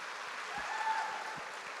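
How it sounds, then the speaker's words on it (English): Audience applause at a Women in Tech Africa Summit, greeting women in tech volunteers coming on stage; a dense, even wash of clapping from a large crowd, steady and fairly loud throughout the short stretch. "please give us a very loud round of applause for all the ladies"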